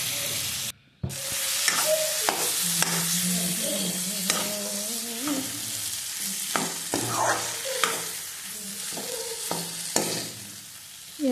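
Potatoes fry in a pan with a constant sizzle, while a utensil stirs them and clatters against the pan in scattered knocks.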